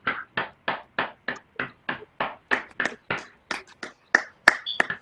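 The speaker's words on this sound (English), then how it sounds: "Please unmute yourself and give yourself a well-deserved" Graduates on a video call clapping after unmuting, producing a sharp series of about sixteen evenly spaced claps, close and clear, with no talk.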